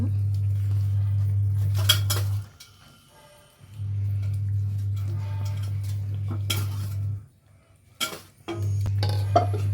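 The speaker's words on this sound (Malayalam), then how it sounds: "ഒന്ന് ഇളക്കി കൊടുക്കാം മെല്ലെ ഇളക്കി കൊടുക്കേ" A spoon scraping and clinking against a pan while stirring bitter gourd fry, with intermittent light metallic taps over a steady low hum that cuts out briefly twice.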